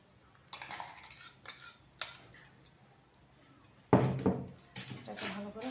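Egg being mixed into sugar in a bowl for a soft chocolate cake, with intermittent clinks and scrapes of a utensil against the bowl, some louder strokes near the end.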